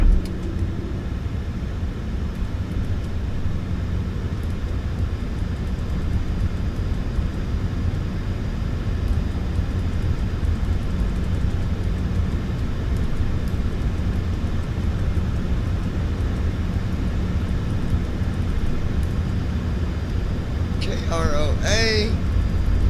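Airplane taxiing at Roanoke airport, a constant loud rumbling engine drone heard from inside, with a voice talking over it.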